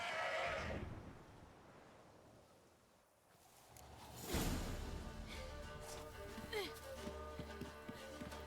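A horse whinnies in The Witcher 3: Wild Hunt over a steady low rumble, followed by a broad whoosh and busy layered sound effects.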